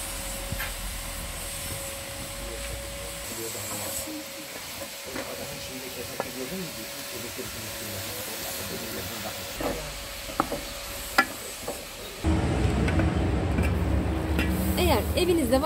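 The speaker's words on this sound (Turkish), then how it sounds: "Kavrulan yağların üzerine doğranmış kuşbaşı etleri ekledim." Diced beef cubes frying in rendered fat, a close crackling sizzle with occasional sharp pops and stirring scrapes, growing louder near the end.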